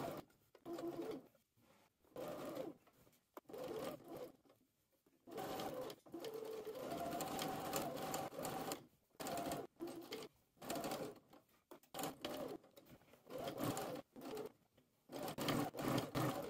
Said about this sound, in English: Start your stitch from the front edge and follow your hem guideline to the other side.